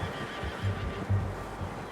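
A horse whinnies in a Western cowboy video game, a short, close neigh with low snorting bursts over a steady ambient background.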